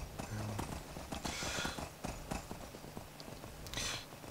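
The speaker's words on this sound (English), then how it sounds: "this is the horse that I found from the bandit." Horse hooves clip-clop steadily in Skyrim, a run of close, crisp hoof strikes over an ongoing game backdrop of wind-like noise.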